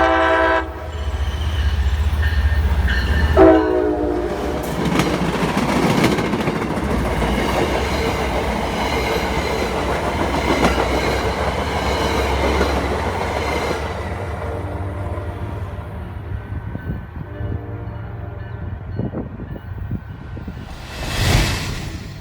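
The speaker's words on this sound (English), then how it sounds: "The office car special meets an MBTA commuter train." An MBTA commuter train passes on the railway with a horn blast near the start, then a long steady rumble and clatter of wheels on track that gradually fades, with no talking.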